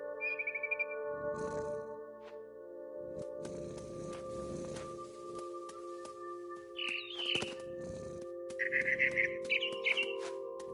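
Bird chirps in the video game What Remains of Edith Finch, short bright calls scattered over a soft tonal game soundscape, sparse and fairly faint.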